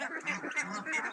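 Farm geese and ducks give a brief burst of nasal honking and quacking calls, close by and moderately loud.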